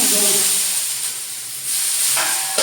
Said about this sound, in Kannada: 2 ದೋಸೆ ಹಾಕಿ ಕೊಟ್ಬಿಡ್ತೀನಿ.